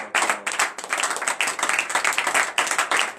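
A congregation at a morning prayer service in Benin claps rhythmically in quick, even beats, loud and close, with a faint murmur of voices beneath.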